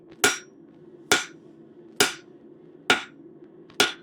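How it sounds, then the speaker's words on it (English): Hammer striking metal stock to flatten it for a bird feeder hanger, five sharp, ringing blows at a steady pace under a second apart, close and loud with a faint hum between hits. "A consistent hammer blow is how we do this."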